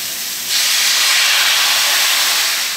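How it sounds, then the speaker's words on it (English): Pork loin chops simmering in a soy-honey glaze, a loud steady hiss and sizzle that swells up as the sauce hits the hot pan and holds on without talk. "We're going to go ahead and add the sauce in, and then these are going to continue to simmer and cook through."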